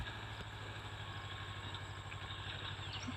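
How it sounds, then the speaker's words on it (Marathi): A small Mahindra Jivo 245 DI tractor engine runs steadily nearby with an even, low throbbing chug and light mechanical clatter, no voices. "ट्रॅक्टर चालू आहे हो, छोटावाला ट्रॅक्टर आहे"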